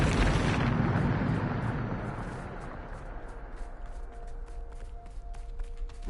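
A Bombarda spell blast in Hogwarts Legacy, a loud broadband boom at the start that fades into a long rumbling decay, with faint tonal game sounds lingering underneath.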